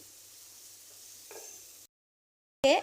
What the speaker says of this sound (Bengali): পেঁয়াজটাকে হালকা করে একটু ভেজে নিচ্ছি